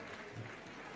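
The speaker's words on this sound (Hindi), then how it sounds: "तालियां बजाकर अनुमोदन।" An audience at a Jain temple ceremony claps in approval, a dense, even patter of many hands heard briefly and fairly quietly.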